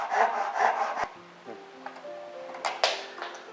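A hand saw rasps through wood in short uneven strokes, then a few scraping, clicking handling noises follow, close by with no talking.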